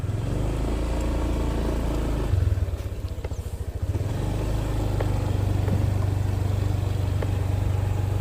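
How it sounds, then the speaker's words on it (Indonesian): A motorcycle engine idles steadily in a rural Indonesian village, with a brief rev and a shift in tone partway through before it settles back into a steady low idle, with no talk. "Kita start motor dulu."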